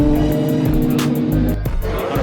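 A BMW and a Suzuki start a half-mile street race, with engines droning and revving loudly and close by, their pitch shifting as the cars pull away.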